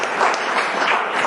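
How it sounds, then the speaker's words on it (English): An audience applauds novelist Yvonne Vaz at her book event, a brief burst of dense, steady clapping from many hands in a room. "So please give her a big hand."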